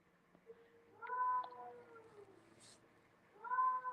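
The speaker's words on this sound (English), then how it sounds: "Oh, cats outside." Cats meowing and caterwauling outdoors, several drawn-out, wavering cries heard faintly at a distance, rising and falling with pauses between them.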